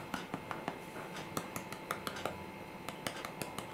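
A dry, baked meringue cake layer being handled gives quiet, crisp taps and clicks in an irregular patter, close by and with no voices.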